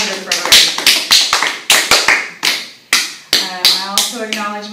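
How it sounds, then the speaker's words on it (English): Several sharp hand claps ring out in an uneven rhythm, close and loud, each followed by a short decay, with speech between them at a family team meeting. "now we're going to clap after we say something positive for everybody"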